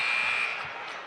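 A basketball arena buzzer sounds at the end of a half during a men's college game, a steady, fairly loud electronic tone that holds for about half a second and then fades into crowd noise.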